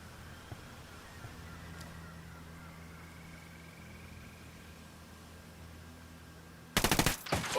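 Automatic gunfire in a shooter video game, a sudden loud burst of rapid shots at the very end after a long stretch of quiet low ambience.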